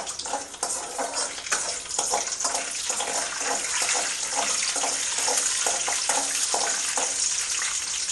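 Mustard seeds splutter in hot oil while tempering, with a dense, continuous crackle and rapid popping that stays loud and near throughout, with no voices.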